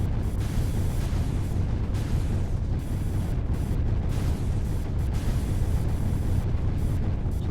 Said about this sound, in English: We got some shield impacts happening.